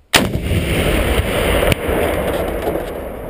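A single loud, close gunshot or artillery blast during Swedish military training opens with a sharp crack, followed by a long rolling echo and a second fainter report.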